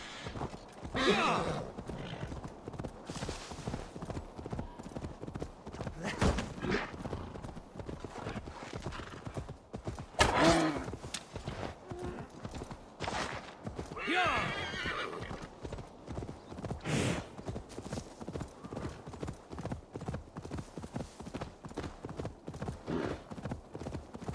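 In Assassin's Creed Valhalla, horse hooves clip-clop steadily while a horse neighs and whinnies several times, with a faint voice murmuring in the background.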